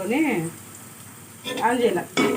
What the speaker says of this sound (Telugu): ఉల్లిపాయలు ఆవాలు మెంతులు అన్నీ వేసి వేపుకున్నానండి